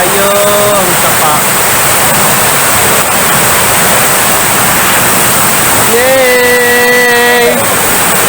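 Loud rushing water of a swollen stream where people are bathing, a constant roaring wash close by and filling everything, with brief high whistles or shouts over it near the start and later.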